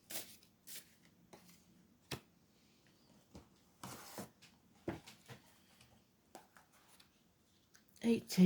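Soft intermittent riffles and slaps of tarot cards being shuffled by hand, several quick bursts scattered across a quiet background.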